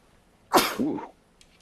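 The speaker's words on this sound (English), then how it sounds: "Sneeze coming." One abrupt sneeze followed by a short throaty, voiced tail, close and fairly loud in an otherwise quiet room.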